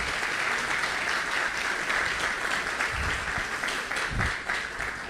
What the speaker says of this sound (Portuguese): Quero pedir aplausos para o Clauber.